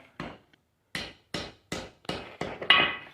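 A hammer strikes hot iron on the step of an anvil while forging a candle holder: about six or seven sharp, ringing blows at a steady, unhurried pace, close and clear with silence between them.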